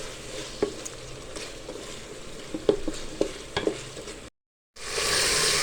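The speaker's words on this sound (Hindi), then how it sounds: "तो अच्छी तरह इसके साथ हम भूनेंगे" Meat and chopped tomato fry in a pot for a traditional tinda gosht dish, hissing steadily while a spoon stirs with irregular scraping taps, then a brief gap before louder sizzling resumes, with no talking.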